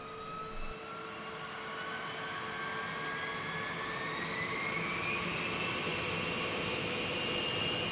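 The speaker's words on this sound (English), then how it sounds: "the pilots fire up each of the B-52's 8 engines." Eight jet engines of a B-52 bomber spool up together at start, a loud steady roar with whining tones that rise in pitch and build steadily over several seconds, with no talking.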